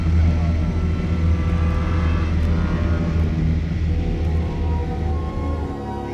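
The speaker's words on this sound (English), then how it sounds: "a final hairy light plane flight to a dirt strip literally hacked out of the jungle" Steady droning engine roar of a small propeller plane in flight over jungle, loud and continuous throughout with a constant low rumble.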